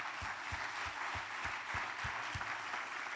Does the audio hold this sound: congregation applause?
yes